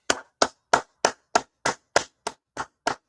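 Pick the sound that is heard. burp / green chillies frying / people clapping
people clapping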